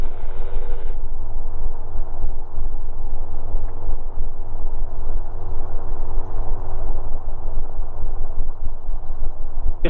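Gyrocopter engine droning steadily in flight as the throttle is pulled back, with a constant rotor and engine roar throughout and a higher whine that drops away early on.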